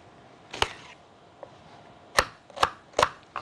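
Knife chopping carrot on a cutting board for roasted red pepper soup, a few sharp separate thuds spaced irregularly, then a quicker cluster of three near the end, close and clear over a quiet kitchen.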